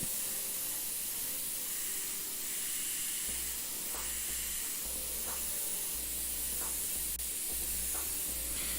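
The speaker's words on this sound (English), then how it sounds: "as I was doing this blend, I was slowly moving my airbrush further and further away from the page" Airbrush spraying paint onto a page in a steady, continuous hiss that lasts throughout, with faint intermittent low thumps and clicks underneath.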